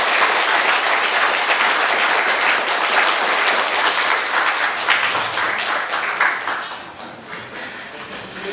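A Korean university conference audience bursts into warm applause to close the session, dense clapping sustained for several seconds before thinning and fading toward the end, with no talking over it.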